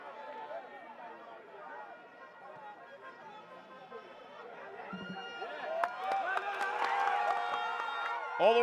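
Football stadium crowd at a Haiti versus Bermuda Concacaf Nations League match swelling into a loud roar as Haiti attacks, building from a distant murmur under a commentator's voice to a rising cheer near the end.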